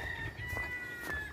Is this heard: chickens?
yes